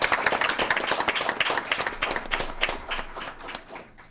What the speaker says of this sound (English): Let's give Dr. Pohl a round of applause.